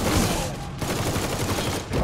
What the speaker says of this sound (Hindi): पेंजीनी हेडशॉट कमिंग इन, बूम